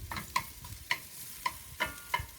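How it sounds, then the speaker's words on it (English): Chopped onion sautéing in a pan for a quick sauce, with a soft sizzle under a series of sharp utensil clinks and scrapes against the pan, about five or six strikes spread out at uneven intervals. "Let this here do some sauteing."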